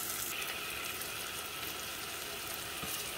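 Spiced yogurt (curd) frying in a pan for egg curry gives a faint, steady, continuous sizzle with no talk over it.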